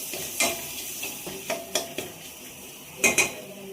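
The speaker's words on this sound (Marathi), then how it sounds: "आता हे सर्व व्यवस्थित मिक्स करून घ्यायचं" Spices, sambar masala, coriander powder and dry coconut being stirred in a bowl, a spoon clinking and scraping against the vessel in short irregular taps, quiet and close.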